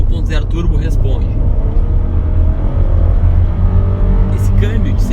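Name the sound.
Volkswagen Virtus 1.0 turbo engine accelerating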